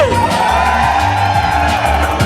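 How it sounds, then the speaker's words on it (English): A dense crowd at an anime convention fan panel roars steadily with cheers, whoops and yells, loud and sustained throughout with no lulls. "if you're on Shiki, start cheering"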